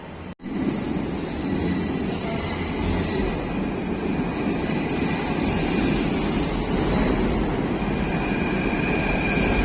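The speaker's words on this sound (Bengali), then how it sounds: "দূর থেকে একটা মেট্রো রেল আসছে দেখা যাচ্ছে।" Jaipur metro train approaching at an elevated station, a continuous broadband rumble and hiss that swells steadily and fills the whole stretch without any voices.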